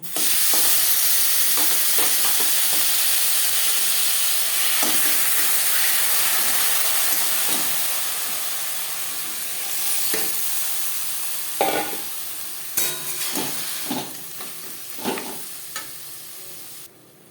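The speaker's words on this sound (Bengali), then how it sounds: "সবার প্রথমে আমি মোচা ভেজে নেব" Chopped banana flower fries in a pan with a loud, dense, hissing sizzle, followed later by intermittent sharp stirring scrapes as the sizzle eases a little.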